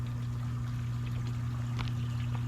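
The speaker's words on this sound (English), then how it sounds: "I'm going to plug the pond pump into it, which is here in the reservoir" A pond pump in a backyard reservoir pours water in a continuous stream, a steady splashing trickle over a constant low hum.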